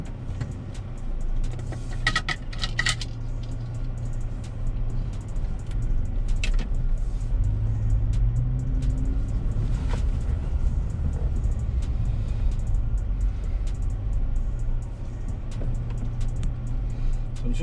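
A 2017 Toyota Tacoma on a test drive through a neighborhood, with a steady low engine and road rumble heard from inside the cab, continuous and moderately loud throughout.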